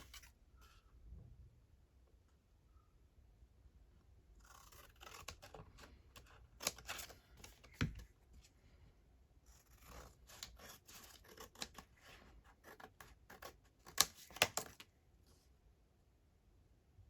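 Scissors snip out scrapbook paper pieces for a junk journal in close, crisp bursts of cutting, with clusters of quick strokes separated by quiet pauses and light paper rustling, no talking.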